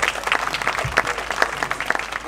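Steady applause from an audience at an Italian CD presentation for an album, dense, even clapping filling the room without a break, moderately loud and close.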